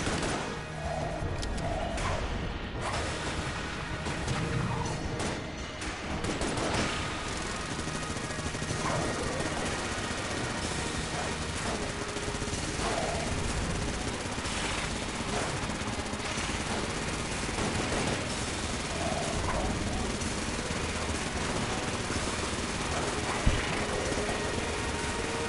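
Rapid, dense gunfire from the black hole gun during a boss fight in Enter the Gungeon, a continuous barrage of shots layered with explosive game effects and music, loud and unbroken for the whole stretch.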